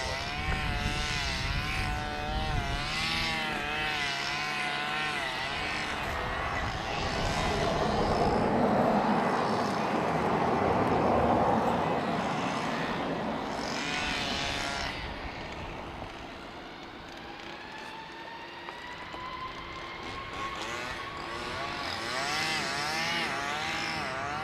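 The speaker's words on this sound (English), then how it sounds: "Aer Lingus 321 Neo to Newark." An Aer Lingus Airbus A321neo departs Dublin Airport bound for Newark, its jet engines building to a loud roar and then a rising whine that fades as it climbs away, heard from a spotting point with no speech.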